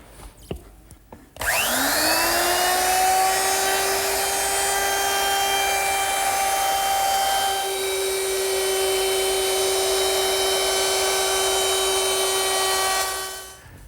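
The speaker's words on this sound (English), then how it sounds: "I'm going to use my router, which is equipped with a 1/4 inch rounding over bit" Router fitted with a 1/4 inch round-over bit, raised slightly above the table, easing wood edges on an outdoor lidded bench: a steady high motor whine that spins up after a brief knock, holds loud and constant for about twelve seconds, then winds down.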